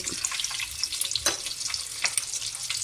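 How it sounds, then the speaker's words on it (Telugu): Eggs frying in a pan during home cooking, a steady crackling sizzle with scattered sharp pops and brief bursts, moderately loud and close, with no talking over it. "ఈ ఎగ్స్ వేస్తాము, కొంచెం ఫ్రై చేసి తీసిస్తాము"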